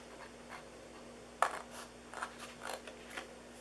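Scissors cutting scored paper for a DIY box give a few soft, brief snips spread across an otherwise quiet stretch, with no talking.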